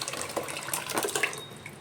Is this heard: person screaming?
no